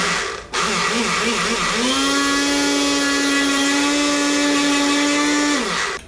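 A kitchen mixer grinder starts up with a click and runs at a loud, steady whine, its pitch climbing and then holding level before spinning down near the end, close and alone.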